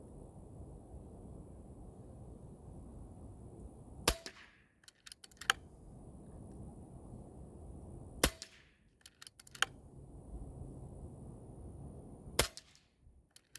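Shotgun slugs fired at a target outdoors: three sharp, distant-sounding shots about four seconds apart, each followed by brief clicks and rattles, over a quiet rumbling background.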